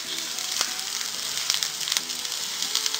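Onion and ginger frying in hot oil for a prawn curry, a steady close sizzle with a few sharp crackles and spatters spread through.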